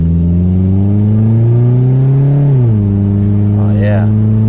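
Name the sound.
2004 Toyota Camry accelerating from a complete stop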